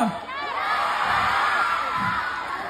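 A large crowd shouts and cheers at a live event, a loud sustained roar of voices with whoops rising over the din throughout.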